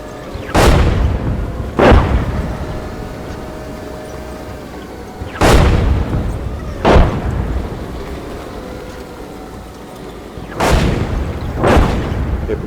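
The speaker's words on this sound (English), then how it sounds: "Getting hit by artillery pretty hard here" Enemy artillery shells pound a platoon in the tank video game GHPC, with six heavy blasts arriving in loose pairs over several seconds, each a sharp crack and deep boom fading into rumble.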